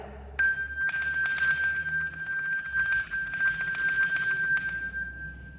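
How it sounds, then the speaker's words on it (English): A handbell shaken continuously, ringing on without pause as a bright, sustained metallic shimmer that starts abruptly and stays loud and close, with no voices. "this is when you get to shake the bell forever"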